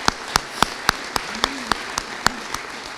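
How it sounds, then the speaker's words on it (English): A small gathering at a police services awards presentation claps for officers, with a few distinct, evenly spaced sharp claps standing out close and loud over a softer background of applause. "Can we give them a round of applause for 5 years?"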